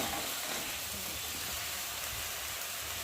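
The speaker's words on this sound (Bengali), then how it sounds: "একটু ভালো করে নেড়ে দেবো" Bottle gourd greens fry in a pan while being stirred, making a dense, continuous close sizzle that stays level from start to finish, like heavy rain.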